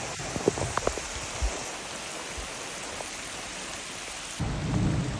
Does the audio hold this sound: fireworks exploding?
no